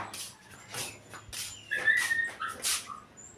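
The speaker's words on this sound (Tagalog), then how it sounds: "Nagkakalampag ang tuta." A puppy yips and whimpers in a series of short, high, close cries with brief gaps between them, fairly loud against a quiet background.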